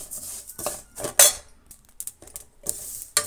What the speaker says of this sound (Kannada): ಜೀರಿಗೆ ಚೆನ್ನಾಗಿ ಹುರಿದಿದ್ದಾಯಿತು